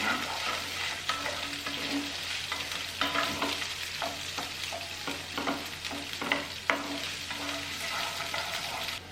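Chopped onions sizzling in a pan while being stirred, a steady fry with repeated scraping and clinking strokes of a spoon, close and fairly quiet, no talking.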